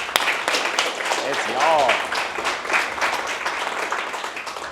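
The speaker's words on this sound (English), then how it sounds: "Give yourself a round of applause." Company staff applaud during a team celebration, dense clapping and cheering under a voice speaking over it.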